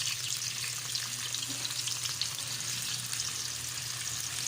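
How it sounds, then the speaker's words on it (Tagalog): Pork fries in a pan with soy sauce, giving a steady, close sizzle with a constant crackling hiss and no talk. "Ilagay na natin yung pork. Lagyan natin ng konting toyo."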